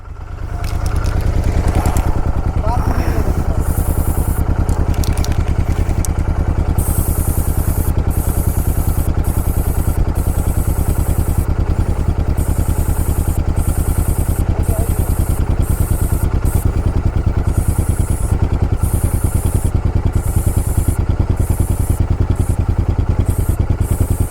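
A motorcycle on a touring ride shifts into first gear and pulls away, its engine chugging at a steady, loud, close rumble with clattering mechanical noise and a voice speaking briefly over it.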